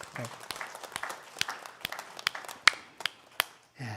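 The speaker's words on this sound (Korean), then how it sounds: "박수로 한번 감사하도록 하겠습니다." A church congregation at a Sunday worship service claps in thanks: scattered, uneven individual claps rather than a dense wall, with a few louder hand strikes and some background murmur.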